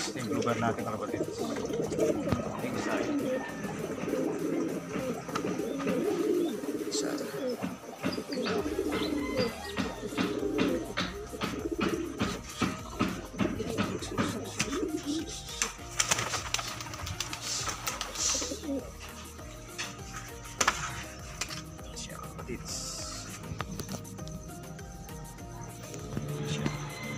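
Blue bar pigeons coo repeatedly at close range, soft rhythmic calls mixed with chirps and light rustling, while a person talks over them through much of the recording.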